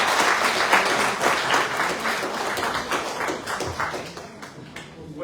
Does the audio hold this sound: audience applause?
yes